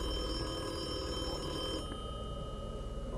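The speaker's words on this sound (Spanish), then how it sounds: "el teléfono de la casa empezó a sonar" A house telephone rings with a steady, continuous electronic ringing tone. The ringing holds even and fairly loud, then drops in brightness partway through, with no voices.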